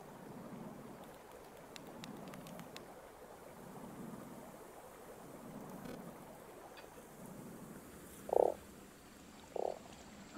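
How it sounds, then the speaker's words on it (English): Frog croaks in the game Terra Nil, two short calls standing out near the end over a steady low ambient bed of wind and rumbling background. "Oh, get frogs."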